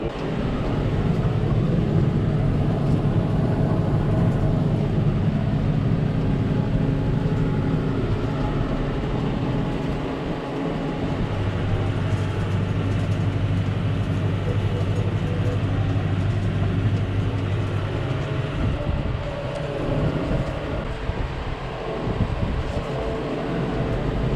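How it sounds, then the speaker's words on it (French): A windrower swathing harvested crop in the field, gathering two combine swaths into one row, gives off a loud, steady engine drone with rumbling low-end churn that holds without a break from start to finish. "je suis en train d'endainer, je prends 2 bandes de la moissonneuse"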